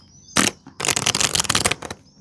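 A deck of playing cards is shuffled in two close, crisp riffling bursts, a short one followed by a longer rapid flutter, with no voices.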